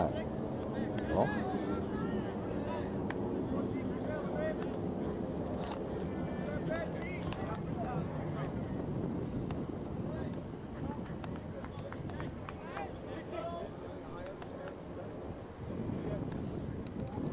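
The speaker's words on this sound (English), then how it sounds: "Windy afternoon." Wind gusting steadily across the microphone at a high school baseball game on a windy afternoon, a constant rushing roar that sits under continuous play-by-play commentary.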